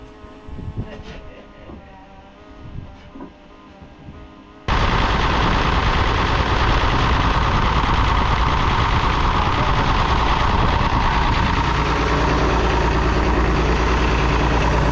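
A diesel engine with a Roosa Master DBG injection pump and a suspected bad valve on cylinder one cranks briefly, then catches and settles into a loud, steady, rough idle, close to the microphone.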